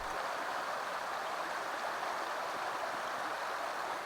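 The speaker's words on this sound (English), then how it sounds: "This was a smaller stream that held smaller fish" Small Montana creek flowing, a steady soft hiss of running water at low level, continuous and even with no voices.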